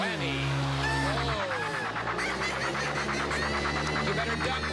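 A Press Your Luck game show whammy sound effect from 1983, a string of bright, warbling electronic tones and buzzy honks running the whole time, loud and busy with studio audience noise mixed in.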